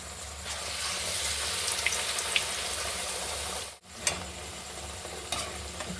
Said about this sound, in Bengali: সুন্দর করে ভেজে নেবো দেখুন কত সুন্দর এই ফুলেছে